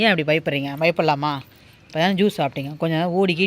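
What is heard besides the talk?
No everyday noises stand out.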